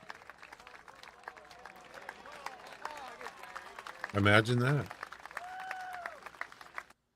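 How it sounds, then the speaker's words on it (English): A short burst of applause-like sound effect rings out during a game stream, loud and brief in the middle, with people chatting and laughing around it. "That deserves an applause."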